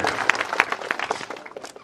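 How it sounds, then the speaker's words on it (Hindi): Audience clapping at a statue inauguration of Dr. Ambedkar in Mainsar, Nokha, a scattered, uneven burst of hand claps from a crowd with some voices mixed in. "इनके लिए भी आप जोर से ताली बजाएं और इनका भी आप स्वागत करें।"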